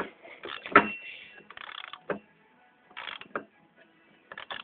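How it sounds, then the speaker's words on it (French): Ratchet with a 17 mm socket tightening the variator nut on an MBK Nitro scooter: close, sharp clicking bursts in several separate runs with pauses between, some strokes louder than others. "on reprend le cliquet avec la douille de 17"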